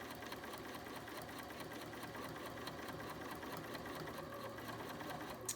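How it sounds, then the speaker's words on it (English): A Bernina sewing machine fitted with a bias binder attachment stitches bias binding onto a face mask, producing a steady, close, continuous mechanical whir and rapid needle clatter from start to finish with no voices. "I'm going to continue stitching until the pin that marked the center of my bias binding gets close to the opening here"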